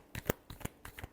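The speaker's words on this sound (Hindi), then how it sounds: "last shuffle" A deck of tarot cards is shuffled a final time, giving four or five quick, crisp riffling bursts close by with brief pauses between them and no talking.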